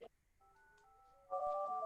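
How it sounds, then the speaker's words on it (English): Phone ringing during a legislative committee meeting, heard as a quiet sequence of electronic tones that step between pitches and then jump louder near the end. "Sorry, my phone's ringing."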